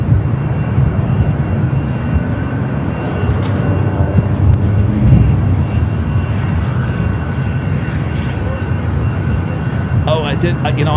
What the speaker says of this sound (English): We do have a JetBlue A321 up next